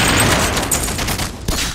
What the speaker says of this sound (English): it can be cool watching everything explode among all the gunfire